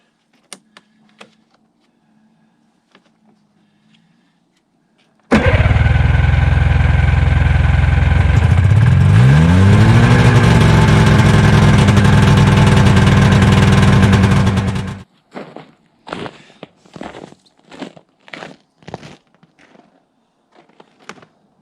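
A Yamaha Venture touring snowmobile engine that sat for years starts and runs roughly for about ten seconds, loud and close with a wavering pitch, then cuts out, followed by scattered clunks and knocks.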